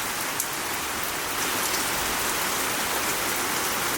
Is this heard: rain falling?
yes